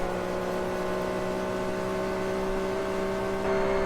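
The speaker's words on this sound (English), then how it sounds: "That gear whine." Steady high whine from a racing car's gearbox in Forza Motorsport 3, a sustained tonal drone held over continuous engine noise and sliding slightly upward near the end, no talk.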